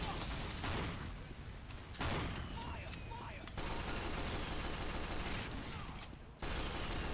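Gunfire from the video game Team Fortress 2 rattles in rapid sharp bursts and repeated shots throughout, with a player's voice briefly over the game sounds.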